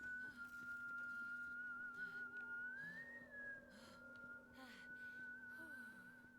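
A steady, sustained whistled tone from a person playing a Wild West themed video game, holding a long note that rises briefly in the middle, with game background sounds and faint low hum running underneath.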